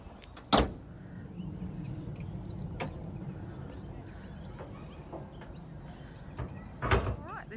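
Car doors and the tailgate of a used towing vehicle slam shut: two heavy thuds, one near the start and one near the end, with a quiet outdoor background between them.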